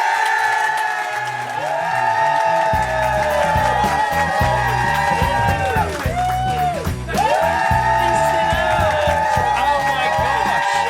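A studio audience cheers, whoops and applauds for actress Rose Ayling-Ellis as she comes on to a live TV show. The noise is loud and continuous for the whole stretch, full of overlapping shouts and sustained tones.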